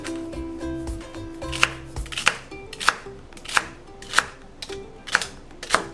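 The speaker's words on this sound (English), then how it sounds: "2 celery stalks that I've washed. Cut off the ends." A knife chops through the ends of washed celery stalks on a cutting board, giving about eight sharp, evenly spaced close-up thwacks over a soft kitchen background hum.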